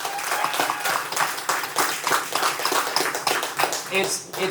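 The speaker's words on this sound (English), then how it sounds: "Let's give them a round of applause." Audience applause at a live show in a brewery, a dense burst of clapping from a crowd that swells and then tapers off over several seconds.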